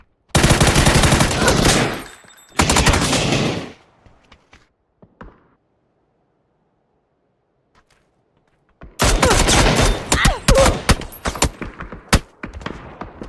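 Bursts of video game gunfire: a loud sustained automatic volley, a second short burst, then near silence before another dense spray of rapid shots trailing into scattered single pops, close and sharp.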